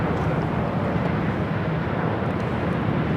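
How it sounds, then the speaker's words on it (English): A Condor airliner in beige beach livery at LAX, departing for Frankfurt, gives off a steady broadband jet roar that stays loud and unchanging throughout with wind rumble underneath. "And this is Condor Flight 2087 in the beige beach livery heading back to Frankfurt."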